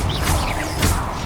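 A Confringo fire spell bursts on impact in Hogwarts Legacy, a short crashing blast with a whooshing swell, loud and close, repeating twice within a second over a dense game-effects bed.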